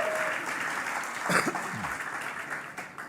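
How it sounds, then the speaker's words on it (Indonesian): A church congregation at a worship service applauds, a moderate, continuous wash of clapping from many people with a few brief voices rising over it. "Beri tepuk tangan lagi Tuhan."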